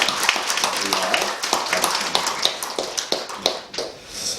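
Church congregation applauding during a Sunday service, a light scattered patter of clapping hands lasting a few seconds at moderate distance.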